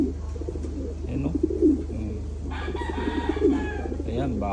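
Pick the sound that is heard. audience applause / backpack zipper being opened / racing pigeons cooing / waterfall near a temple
racing pigeons cooing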